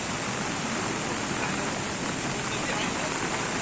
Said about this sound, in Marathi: गुहागरमध्ये असा मुसळधार पाऊस झाला आहे,